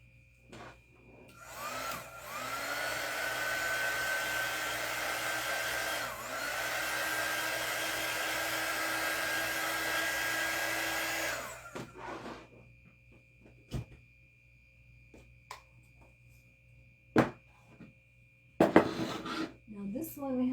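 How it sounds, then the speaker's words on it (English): A hair dryer blows on paint on a wooden pumpkin craft, a steady close whirring roar lasting about ten seconds before cutting off, followed by quiet handling taps and knocks. "Dry this a little bit."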